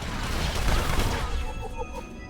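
Blaster bolts fire in a volley during a Smuggler mission on Hoth in The Old Republic, a dense burst of rapid energy shots over game noise with a voice briefly present.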